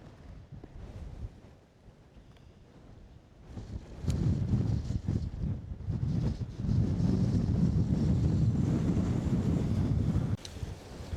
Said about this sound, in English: It's a bit on the windy side